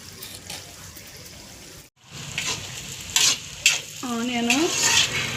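Fish curry masala with onion, salt and turmeric fries in a pan, a close steady sizzle broken by a short gap, then louder stirring scrapes and a brief squeaky whine near the end.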